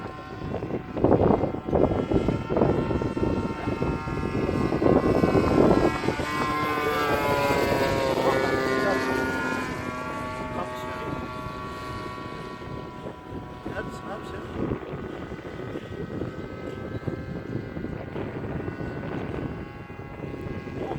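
A buzzing F4U model airplane engine drones steadily outdoors, its pitch rising and shifting as it revs, with wind noise and occasional voices underneath.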